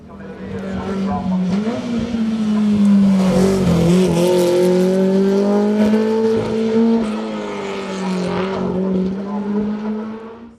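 Historic JD race car of original type climbing a hill-climb course, its engine droning steadily with rising and falling pitch through gear changes, heard under continuous commentary throughout.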